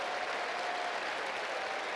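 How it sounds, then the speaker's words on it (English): A crowd claps in a steady, dense round of applause at a corporate conference in Rotterdam, sustained and fairly loud throughout with no break. "Give them a round of applause."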